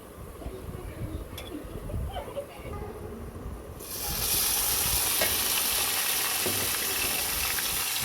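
Bottle gourd frying in butter with chopped onion and garlic in a pan, a steady close sizzle that jumps louder and brighter partway through, with occasional stirring scrapes.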